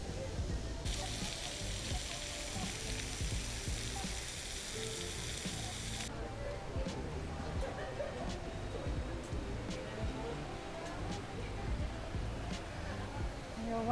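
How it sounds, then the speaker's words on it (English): An indoor waterfall fountain in a Manila building splashes in a constant broad hiss, with people talking nearby. "A really cool waterfall."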